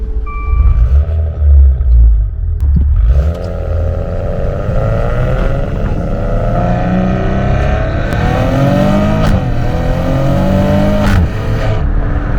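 A 2019 Maserati Ghibli with a Ferrari-built 3-liter V6 revs loudly from inside the cabin, with blips at the start, then a strong acceleration whose pitch climbs through the gears, with shift dips along the way.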